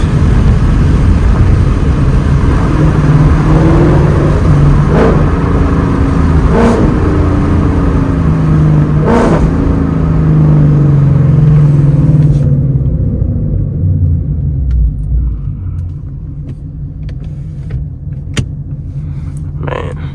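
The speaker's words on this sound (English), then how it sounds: "Got some downshift for you guys." A Ford Mustang GT's 5.0 V8 rumbles loudly from inside the car while driving, with throttle blips and several rising and falling engine swells from downshifts before the sound drops to a quieter cruise.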